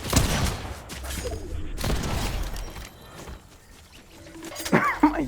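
Bursts of gunfire erupt in a Fortnite match while shooting at the Shaggy character, loud rattling volleys in the first two seconds, then quieter clatter and a final sharp burst.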